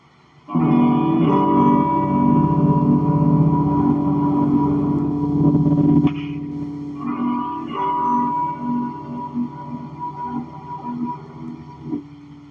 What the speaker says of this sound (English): Wow, reverb.